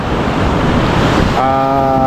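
Loud, roaring surf of strong ocean waves crashes continuously with heavy wind noise buffeting the microphone, then a steady low droning tone cuts in near the end.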